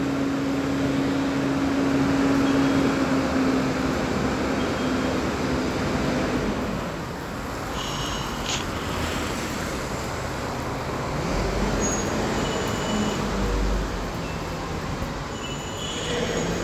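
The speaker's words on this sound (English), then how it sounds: "A truck just went by and it is working really, really hard." A heavy truck passing close by with its engine labouring hard, a loud continuous rumble and roar that swells and holds across the whole stretch, with a rattling, squealing edge and no talk over it.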